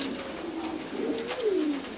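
A domestic pigeon coos in a loft, a soft rolling call rising and falling over about two seconds, close and moderately loud against a faint steady background hiss.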